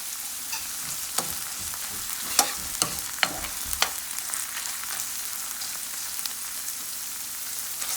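Spice being stirred into a sizzling frying pan while cooking a fried karela bitter melon dish, with steady close frying hiss and several sharp clicks of the utensil scraping against the pan.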